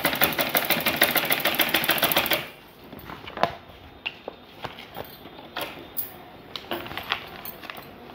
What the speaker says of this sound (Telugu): మిషన్ మీద ఇలా కుట్టుకోవాలి